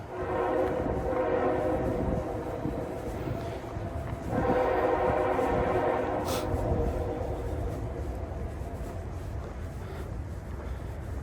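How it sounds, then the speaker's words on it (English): A train rumbles past continuously and close by during an outdoor walk, a loud steady roar with a horn-like tonal layer swelling midway, no talking over it. "hold on guys, I think that's a train"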